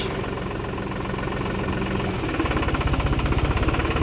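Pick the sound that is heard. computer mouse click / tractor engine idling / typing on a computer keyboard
tractor engine idling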